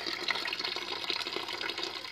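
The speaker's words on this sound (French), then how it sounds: "L'eau qui coule du robinet." Water pours steadily from a household tap in Gabon, a continuous hissing, splashing rush heard close and alone without any talk.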